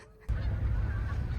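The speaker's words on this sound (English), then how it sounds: "at least we got cackling geese" Cackling geese honk steadily from a nearby flock outdoors, their calls overlapping into a continuous low chorus with sharper honks rising above it.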